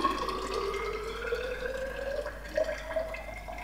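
Liquid pours steadily into a container as acid and water are measured out for an electrolysis gold-plating bath for silver and copper coins; the pitch rises slowly as the vessel fills, close and alone with no talk.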